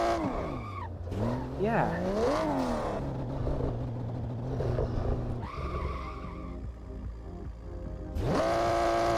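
Car in the racing simulator Assetto Corsa with traction control off, engine revving and falling in sweeping pitches while tires squeal and skid loudly, a voice speaking briefly over it.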